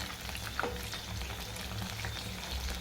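Chicken pieces frying in oil, a steady dense crackle and sizzle close by, with occasional sharper pops and no talking.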